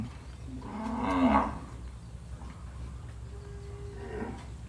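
Cattle on a Thai farm moo, one long low call up close followed later by a fainter second call, over a constant outdoor background.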